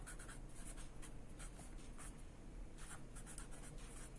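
Someone writes on a board during an accounting lesson, producing faint, steady scratching strokes in quick succession with no speech.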